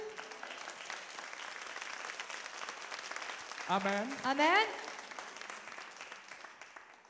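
Church congregation clapping in praise during a bilingual sermon, a dense burst of applause rising for a few seconds amid steady background patter, with a voice speaking over it.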